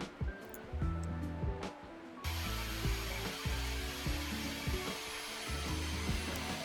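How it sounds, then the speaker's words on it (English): A table saw cutting a taper with a tapering jig, broadband whooshing blade noise that kicks up sharply after a couple of seconds and holds steady, with knocks and thumps of the workpiece and jig, close by. "this is the tapering jig in action"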